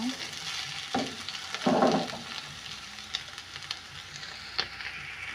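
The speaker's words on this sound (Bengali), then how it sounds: "এই যে আলু ভাজি করতেছি আমি সকালের নাস্তার জন্য।" Potatoes frying and being stirred in a pan for a village breakfast, with a steady sizzle broken by a few louder scraping stirs, close and without speech.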